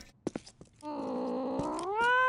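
Cats meowing in a video game, a long drawn-out tonal meow rising at the end, preceded by a few short soft clicks and taps, loud and close.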